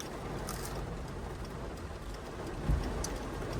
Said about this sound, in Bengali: এত বৃষ্টি হচ্ছে বাইরে থেকে